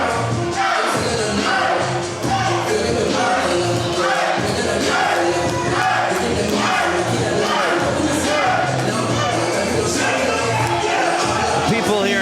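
An arena crowd in Houston cheers along with a wrestler at a wrestling event, a loud continuous roar of voices with rhythmic swells, mixed with a commentator talking over it.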